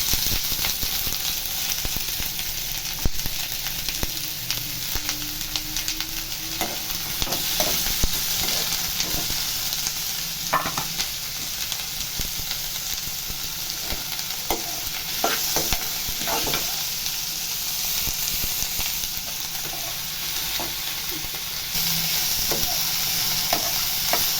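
Chopped onions fry in about three spoons of hot oil for a fish egg bhurji, a continuous close sizzle broken by scraping clicks as a spoon stirs the pan.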